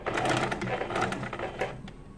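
A sewing machine stitches fabric for a homemade bow tie in a short, fast run of rattling clicks that is loud and close, then slows and stops.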